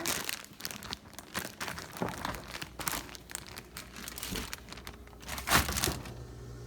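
A plastic bag is handled while peas are added to cut-up beef for a stir fry, giving repeated close crinkles and rustles in uneven bursts, with a sharper crackle near the end and no talking.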